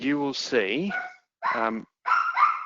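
A dog barks and yips in the background during an online meeting, a few sharp whining barks mixed in with someone talking close by, with brief silent gaps between bursts.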